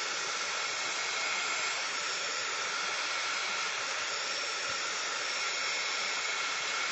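A hair dryer blows steadily on a watercolor flower painting to dry it quickly, a loud, continuous close-up airy roar that holds unchanged throughout with no talk over it.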